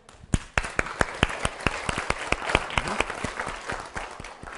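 Audience at a foreign-language teaching seminar applauding, a short burst of sharp, distinct claps that starts sparse and quickly fills into steady clapping from a small crowd, tapering slightly at the end.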